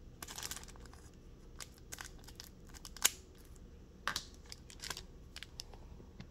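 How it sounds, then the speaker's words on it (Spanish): Scissors snipping open a McDonald's 25th anniversary Pokémon card pack, with a few sharp cuts and crinkling foil wrapper up close, quiet and irregular, without talk. "Vamos a conseguir unas tijeras. Ahí. Aquí hay las tijeras."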